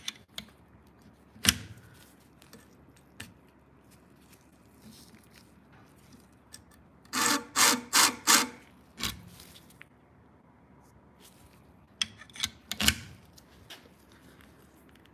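A few quick bursts of scissor blades rasping across a sharpener, grouped in a tight run of strokes near the middle, with scattered clicks and handling noises before and after, close and fairly loud.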